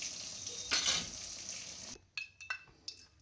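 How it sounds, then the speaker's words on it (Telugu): Mustard seeds, cumin and shallots sizzle as they hit hot oil for tempering dal, a loud hissing crackle followed by quieter clinks and stirring sounds from the pan. "నూనె కాగింది. ఆవాలు, జీలకర్ర, చిన్నులపాయలు,"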